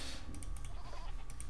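Sheep bleating in the Age of Empires video game during dark age scouting, short game bleats repeated in quick bursts over a steady low background hum.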